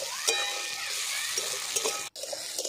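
Onion and tomato frying in hot oil, a bright continuous sizzle close up, with light utensil taps and a brief cut-out near the end before the sizzling resumes.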